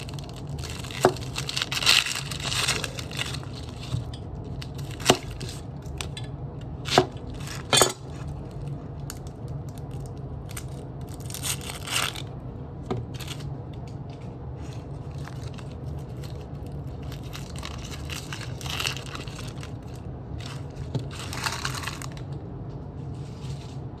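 A Niigata 210mm SLD steel gyuto slices through an onion, giving a steady series of crisp, crunchy cuts with sharp clicks of the blade meeting the board, up close and without talk.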